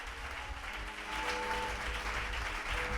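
A church congregation claps in praise of the Lord during an evangelist's sermon, a dense, steady wash of applause heard from a distance, with faint voices calling out underneath.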